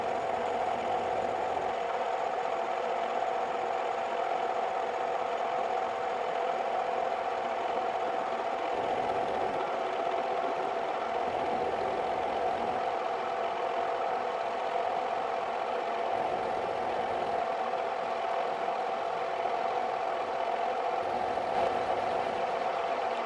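A machine runs steadily with its auto feed engaged while shaping a folding shovel handle, a continuous mid-pitched motor drone with a steady tonal hum lasting throughout, close and fairly loud with no talking.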